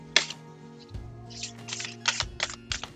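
Crisp, quick riffling bursts of tarot cards being shuffled, several in a row, close up over a steady low hum.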